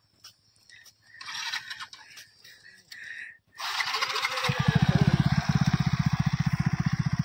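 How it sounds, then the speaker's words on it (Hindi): A motorcycle engine starts after some clatter and rises into a loud, throbbing exhaust roar that runs steadily close by, on the Bakhasar run in the Rann of Kutch. "उसका जो एग्जस्ट है पूरा, वो इतनी आवाज कर रहा है जबरदस्त"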